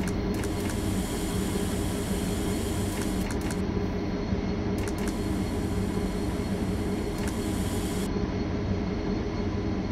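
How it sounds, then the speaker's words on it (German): A passing train hauled by a class 218 diesel locomotive in the Zusi 3 train simulator, a loud, steady rumble of engine and rolling wheels that fills the whole stretch with no voices. "Signal ist grün, da kommt gleich noch ein Zug."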